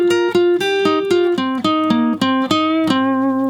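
Electric lead guitar lick built on the minor pentatonic scale, a string of about a dozen clearly picked single notes with sustained tones, played alone and close with no talking.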